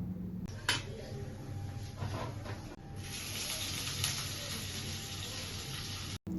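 Ginger paste hits hot oil that already holds dried red chilli and bay leaf, for a Barishal-style aar fish curry, and sets off a steady, close sizzling hiss that swells and carries on with a few clatters.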